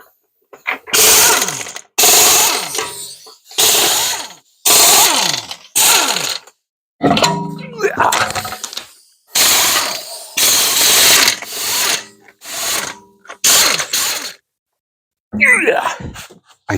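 Front wheels of a Mercedes R230 coming off with an impact tool: a run of loud, close, rattling bursts, each lasting about a second, separated by short pauses, with a few quieter clanks in between.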